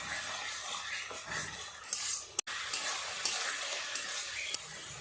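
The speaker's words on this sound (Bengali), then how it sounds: "খুব ভালো করে সমস্ত মশলাটা 3-4 মিনিট সময় নিয়ে কষিয়ে নিতে হবে।" Spice masala with yogurt and green chilies being stir-fried for a fish curry, a constant soft sizzle with spatula scrapes and a couple of sharp clinks against the pot, close and quiet, no speech.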